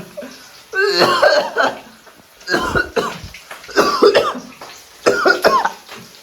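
Heavy, repeated coughing in four loud bursts with short pauses between, close to the listener; no speech.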